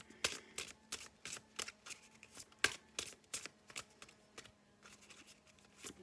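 Tarot advice cards shuffled by hand in a quick, steady run of crisp riffling bursts, close and fairly quiet, with no voice over them.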